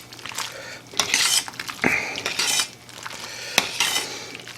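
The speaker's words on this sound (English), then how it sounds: "We'll get this stirred in there pretty good." A spoon scrapes and clinks against a cooking pot while Italian sausage is stirred in for spinach tortellini, giving several bursts of metallic clatter and scraping at close range with no talking.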